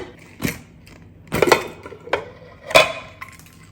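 A pressure cooker holding millet rice (cholam) being opened after its steam has been released, giving three or four separate metallic clanks and scrapes of the lid, close and moderately loud, with no talking.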